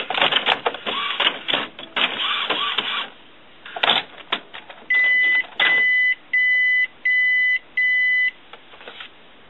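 An Epson printer checks newly installed ink cartridges, first with whirring and clattering mechanical movement, then with a series of five loud, evenly spaced electronic beeps.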